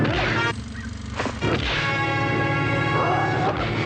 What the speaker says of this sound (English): this will be punching red cabbage with boxing glove